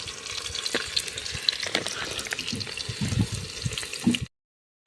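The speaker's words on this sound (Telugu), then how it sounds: "కొంచెం ఆయిల్ వేడైనాక ఉల్లిగడ్డ వేసుకోవాలి" Onions go into hot oil for a village chicken curry, giving a steady close sizzle with scraping and stirring clatter for about four seconds before it cuts to silence.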